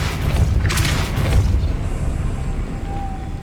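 Depulso force spell cast in the Hogwarts Legacy video game, a deep booming blast with a rumbling low end that fades over a couple of seconds, followed by a faint tonal shimmer.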